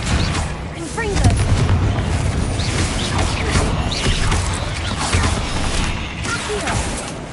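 Spell blasts from Confringo and Incendio in the video game Hogwarts Legacy, a dense run of booming impacts and crackling bursts layered with game effects, loud and continuous without pause.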